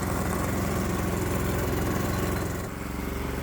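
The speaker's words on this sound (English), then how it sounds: "the engine's running off the original magneto ignition and not the new ignition system" A Predator small engine running on its original magneto ignition, a loud, steady close-up buzzing drone with a constant rhythmic firing pulse and a slight shift in tone near the end.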